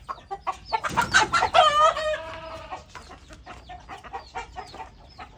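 Several Beijing Fatty chickens cluck and call nearby on a farm, with one louder drawn-out crow-like cry early on, followed by scattered softer clucks.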